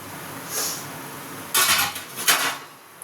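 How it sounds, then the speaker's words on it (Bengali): A metal lid lifted off a pot of steamed momos: a light clink, then two bright metallic clatters close by, with quiet background and no voices. "এবার ঢাকাটা সরিয়ে দেখব, আমার মোমো একেবারে রেডি।"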